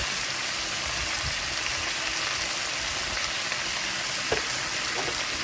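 Cabbage and onions frying in bacon grease for a Southern Sunday supper, giving a steady, close, continuous sizzle with a soft crackling texture throughout and no voices.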